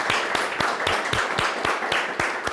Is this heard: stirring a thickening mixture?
no